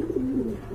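Pigeons coo close by in a low, throaty, rolling call that lasts the whole moment, steady and fairly loud with no talking over it.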